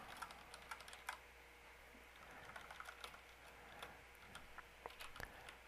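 Quiet, steady typing on a computer keyboard, with irregular clusters of light key clicks and a few sharper taps, with no voices.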